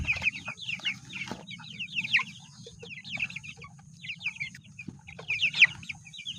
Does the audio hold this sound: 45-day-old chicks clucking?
yes